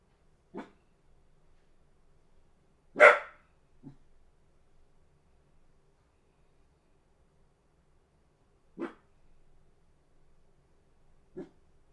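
A dog barks in short, separate bursts spread across a quiet stretch: four or five sharp barks at uneven intervals, one louder and fuller than the rest, with silence between them.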